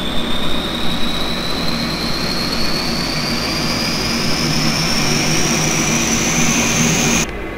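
Dash 8 turboprop engines spooling up in a Prepar3D flight simulator, a loud steady engine roar with a whine rising slowly in pitch over several seconds before dropping away abruptly at the end.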